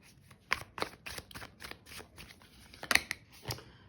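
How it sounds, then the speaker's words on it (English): Tarot cards being shuffled by hand, a run of soft riffling and snapping bursts with two louder clusters, close and fairly quiet, with no talking. "Last two shuffles."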